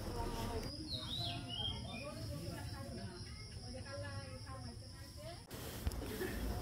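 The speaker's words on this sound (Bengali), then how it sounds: "কিচিরমিচির পাখির ডাক," Birds chirp outdoors on a dewy morning beside rice paddies in the countryside, with scattered high calls over a steady background of insects and rural ambience.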